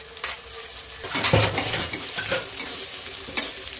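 Crushed garlic and tomatoes sizzle in a hot pan as a spoon stirs and scrapes, with a steady frying hiss and a few louder clinks and scrapes, close by.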